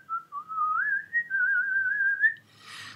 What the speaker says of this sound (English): and began to whistle